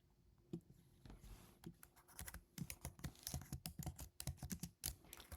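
Quiet keystrokes on a computer keyboard tap out a project title in irregular bursts, with soft clicks that bunch into quick runs and short pauses, heard alone and fairly close.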